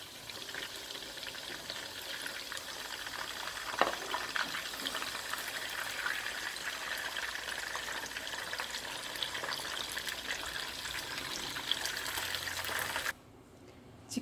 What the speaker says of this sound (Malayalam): ചിക്കൻ വറുത്തെടുത്തിട്ടുണ്ട്.